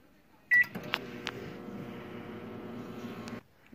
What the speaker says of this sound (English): Set your microwave.